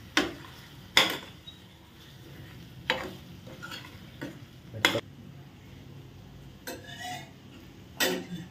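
Curry being stirred in a pan, with a low sizzle underneath and sharp scraping clinks of a spoon against the metal every second or two.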